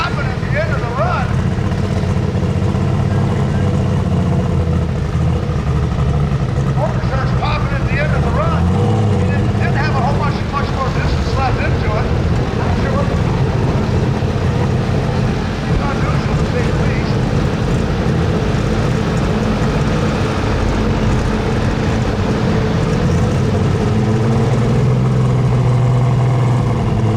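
Turbocharged super stock tractor roaring loudly and continuously through a pull, its engine popping toward the end of the run, with a voice talking over it.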